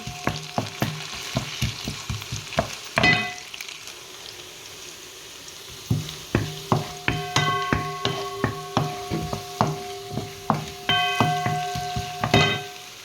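Food frying golden in a pan, a steady sizzle punctuated by sharp metallic clacks of a utensil striking and stirring in rhythmic bursts, with a brief lull midway before the clattering resumes.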